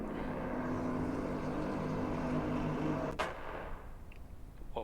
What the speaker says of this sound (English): there was a gunshot in the distance at Brands Hatch